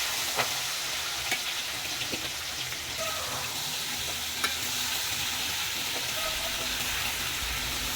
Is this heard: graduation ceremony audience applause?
no